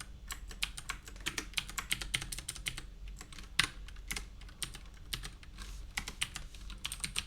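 Fingers type on a computer keyboard in an irregular stream of close, crisp key clicks and clacks with brief pauses, while a low steady hum sits underneath and no one speaks.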